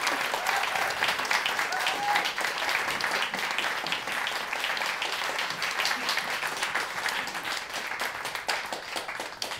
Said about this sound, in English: let's go for the clapping